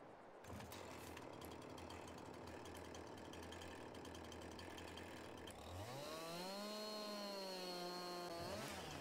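A chainsaw in Farming Simulator 22 cuts a big tree, buzzing steadily at idle, then revving in rising and falling sweeps as the tree is felled.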